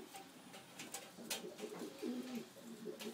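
Pigeons cooing in a breeding loft in Puna, Hilo, Hawaii: soft, low coos repeat at close range against a steady rustle, with no talking.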